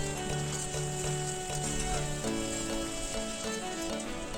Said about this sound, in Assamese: ধুনীয়াকৈ লৰাই ভাজি থাকিব